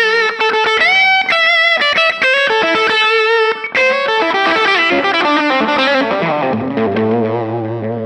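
1994 PRS McCarty electric guitar played through its bridge pickup with distortion and effects, loud chords and single-note lines ringing out alone before thinning and fading toward the end.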